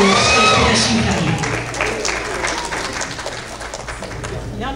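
An audience at a mushaira, an Urdu poetry gathering in Richardson, Texas, applauds to welcome a poet to the stage. The clapping is loud and dense at first, then thins and fades through the rest of the clip.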